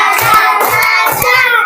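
A classroom of students claps out a counted rhythmic pattern in unison, producing sharp, close hand claps in small groups over about a second and a half.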